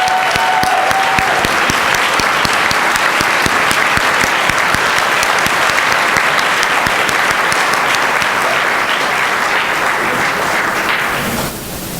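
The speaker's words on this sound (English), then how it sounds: "So let's give another round of applause for all of our Teachers of the Year." Loud, sustained applause from a school board meeting audience for the district's Teachers of the Year, dense clapping filling the room for about eleven seconds before it drops away.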